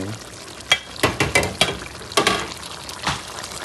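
Oxtail seasonings frying in a pot for Jamaican oxtail, with a soft continuous sizzle broken by a quick run of spoon stirs and scrapes against the pot, close and fairly loud.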